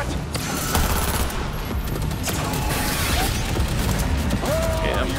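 Heavy gunfire in the video game Cyberpunk 2077, sustained bursts of shots with mechanical clatter and impacts, loud and continuous throughout.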